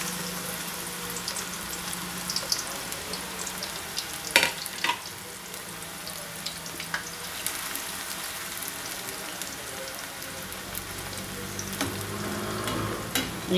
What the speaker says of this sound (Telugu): ఆయిల్ హీట్ ఎక్కిన తర్వాత మనం ఇప్పుడు ఈ అరటికాయ చిప్స్ను ఆయిల్లో వేసేసుకుందాము